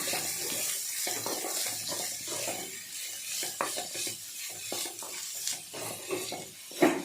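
Chopped vegetables and capsicum fry in a pan for masala Maggi, a steady hiss and sizzle with scattered clinks and stirring scrapes close by, no one speaking.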